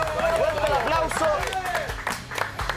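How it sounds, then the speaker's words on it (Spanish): A television studio audience breaks into loud, dense clapping mixed with crowd noise and cheering, while a host's voice carries on over the applause. "¡Fuerte el aplauso!"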